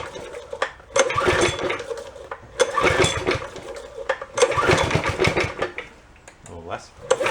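A small engine on a junk go-kart runs rough on choke, sputtering and surging in uneven bursts, with people talking over it.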